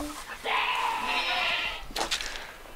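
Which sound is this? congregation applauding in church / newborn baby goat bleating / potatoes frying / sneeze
newborn baby goat bleating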